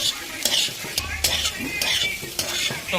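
Onion and potato fry in a pan and are stirred, giving steady close sizzling broken by several scraping stirs; no speech.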